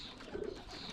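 A young pigeon in a loft gives a single short, soft coo, close by but faint against a quiet background hiss.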